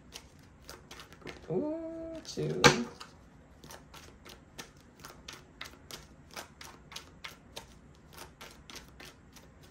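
Tarot cards are riffled and tapped in a quick series of crisp, clicking bursts, close up, with a brief spoken count near the start.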